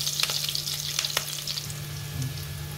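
Cumin seeds and green chilli sizzle in hot oil as a tempering for sago khichdi, with potatoes about to go in; a steady close crackle and hiss with scattered pops and clicks, no talk.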